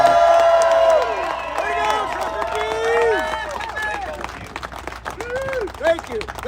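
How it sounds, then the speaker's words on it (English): Crowd at a trucker convoy rally applauding and cheering a truck driver outdoors, a bed of claps and whoops with people talking loudly over it throughout. "Everybody give them a round of applause."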